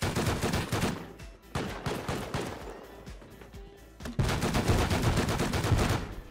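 Rapid, dense gunfire in the survival game Rust, loud bursts of automatic shots crackling in close succession, broken by brief lulls around the second and fourth seconds before a sustained heavy barrage.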